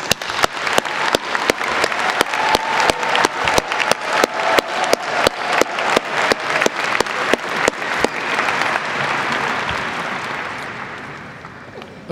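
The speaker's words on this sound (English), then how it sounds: "Please join me in a well-deserved round of applause for these outstanding individuals." Graduates receive applause at the 2023 Heinz College hooding and diploma ceremony, loud rhythmic clapping in unison at first, loosening into a thick, scattered ovation that fades toward the end.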